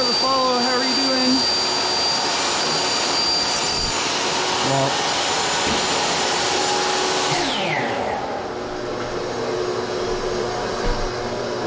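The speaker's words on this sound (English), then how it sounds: "wait for the vacuum to stop" A vacuum cleaner drones loudly and steadily throughout, its motor whine shifting pitch partway through as if winding down or changing load, with no one talking over it.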